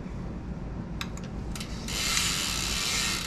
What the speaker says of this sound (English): So get our little Allen key.